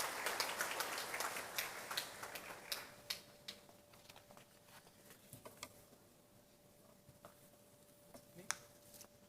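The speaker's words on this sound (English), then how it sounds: "Let's give a proud homecoming welcome and a big round of applause for our inspiring VITN, Mr. Ram Prasad." An audience at a college freshers' induction programme applauds, starting as a fairly dense round of clapping that thins out into scattered individual claps, faint and somewhat distant, with a steady low tone underneath.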